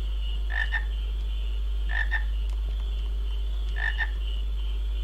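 Frog croaks from Final Fantasy IX, three spaced double croaks at irregular intervals over a constant droning game background, distinct and moderately loud.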